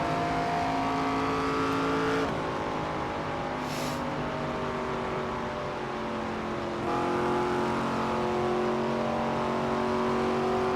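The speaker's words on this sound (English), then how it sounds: "Driving just a glossy black race car with a number 33" Glossy black number 33 stock car in the NASCAR 25 racing game holds a loud, steady engine drone with sustained harmonic tones, shifting pitch as it revs, dipping briefly around mid-run before climbing again, with no talk.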